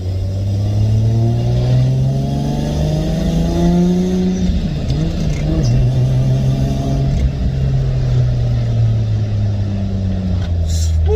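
A Lexus GS300 fitted with a 2JZ-GTE engine and R154 manual gearbox drones loudly from inside the cabin. The engine pitch climbs, drops briefly around a gear change, then pulls steadily again.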